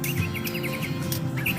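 Bright, rapid bird chirps repeat in short bursts over a steady low hum, with a louder run of tweets near the end.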